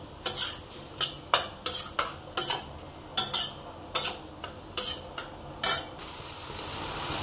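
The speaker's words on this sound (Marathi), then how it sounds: "त्यामध्ये आपण आता कोथिंबीर टाकून घेऊयात। कोथिंबीर थोडं टाकून घेऊयात, मिक्स करूयात।" A spoon scrapes and stirs chopped coriander into cooked tomato in a pan for butter chicken masala, about fourteen crisp, rhythmic strokes close up, then a brief pause.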